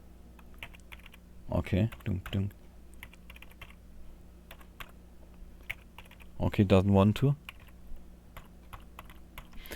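Someone types on a computer keyboard while entering a username and password during a Linux system install. Two close bursts of rapid key clatter come through, and someone briefly talks between them.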